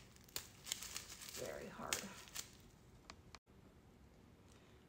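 A sealed plastic bag holding hardened seasoning mix crinkles and crackles in short bursts, fairly close, alongside a person talking.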